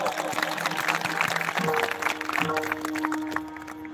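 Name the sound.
audience applause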